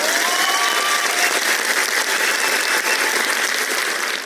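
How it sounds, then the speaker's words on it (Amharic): An audience claps hands steadily at a motivational talk, a dense continuous wash of applause filling the space with no voices breaking through. "አጨብጭቡ"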